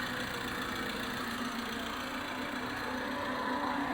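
A truck idles on a newly built bypass road near Chilakaluripet, its engine giving a steady, continuous rumble with faint vibration and no voices over it.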